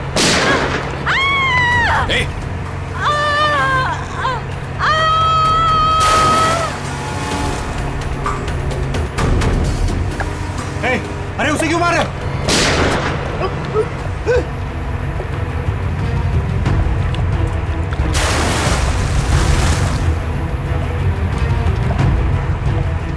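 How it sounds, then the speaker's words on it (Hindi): Loud sharp bangs of gunfire burst out amid a chaotic scene, with shouting voices, engine rumble and repeated cracks scattered throughout. "ये लोग गोलियां क्यों चला रहे हैं?"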